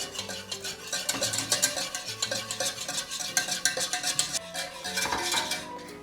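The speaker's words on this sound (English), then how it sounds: "Now I'm gonna turn off the heat and slowly pour in the milk while I whisk" A whisk scrapes and clicks rapidly around a pan as milk is poured into a flour-and-butter roux off the heat, a busy, rhythmic metallic stirring that carries on steadily throughout.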